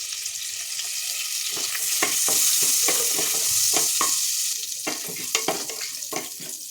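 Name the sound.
whole spices and dry chillies sizzling in oil and butter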